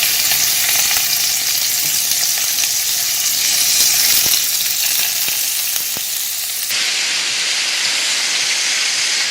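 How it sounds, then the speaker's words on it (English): Chicken pieces sizzle steadily in preheated oil in a skillet for a keto chicken teriyaki, a loud, dense frying hiss that runs continuously throughout with no talking. "Should sizzle just slightly."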